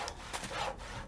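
A hand saw rasps through wood in quick back-and-forth strokes, soft and a little distant.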